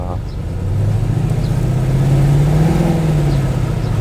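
A 2015 Ford Mustang GT engine starts, then settles into a deep, steady rumble that swells into a louder rev before easing slightly. It is close and prominent, with some talking faintly present.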